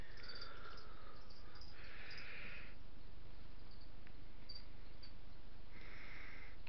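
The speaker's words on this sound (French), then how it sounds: "Ce qu'on entend, c'est mes grillons." Pet feeder crickets kept for geckos and a bearded dragon chirp in a home setting, with repeated shrill trills coming and going at moderate level over a steady low hum, no voices.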